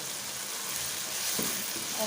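Fried okra dropped into a pan of cooked masala with green chilies, a loud steady sizzle that swells as the okra hits the hot oil, close up.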